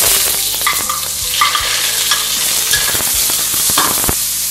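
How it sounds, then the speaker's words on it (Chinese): Shiitake mushrooms stir-fried in hot oil in a wok give a steady, loud sizzle, with scraping stir strokes and clattering tosses breaking through at irregular moments. "热锅放油，下入香菇翻炒"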